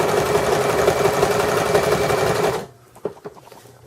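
Sewing machine stitching a placemat, a loud continuous mechanical whir for about two and a half seconds that stops abruptly, followed by a few soft clicks and handling taps.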